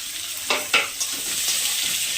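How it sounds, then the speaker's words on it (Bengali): Dried red chillies, cumin seeds and chopped onion hit hot oil with a bright sizzle, with a couple of sharp crackles and stirring scrapes near the start before a steady frying hiss. "শুকনো লঙ্কা দিলাম, জিরে ফোড়ন দিলাম, পেঁয়াজ কুচি রেখেছিলাম একটা দিয়ে দিলাম।"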